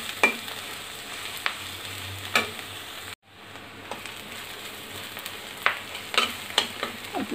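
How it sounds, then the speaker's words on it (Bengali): Onions fry in oil inside a clay pot, a steady soft sizzle with intermittent scraping stirs, close up, briefly cutting out midway. "পেঁয়াজটা ভাজা হয়ে গেছে"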